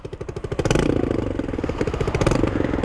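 A motorcycle engine with its muffler deleted revs loudly and continuously, its exhaust crackling with a rapid, throbbing pulse that swells after the first moment and stays strong.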